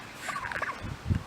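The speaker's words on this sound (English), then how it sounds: "And there's Gobblish, the turkey." A pet male turkey gives a short rapid gobble, a bubbling warble that swells over about a second and ends in a louder low burst, heard up close with no talking.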